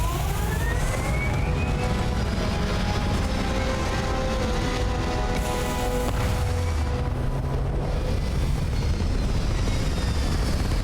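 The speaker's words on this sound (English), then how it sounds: "All thrusters firing." Spaceship thrusters firing in the game Starfield, a steady loud roaring rumble with rising tonal whines layered over it, continuous throughout with no voices.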